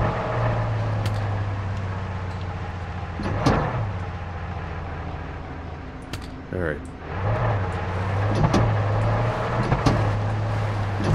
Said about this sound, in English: It's cool how the vehicles actually sound unique, different. They're not all the same sounding vehicle.